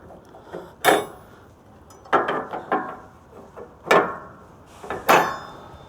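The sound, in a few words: removing metal pins from skid steer ramp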